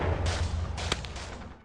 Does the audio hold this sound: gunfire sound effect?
yes